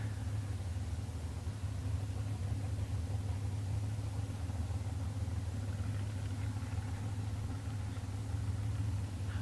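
A winged dragster at a bracket drag race sits idling in the lanes, its engine a steady, loud low rumble that holds evenly throughout with no revving bursts.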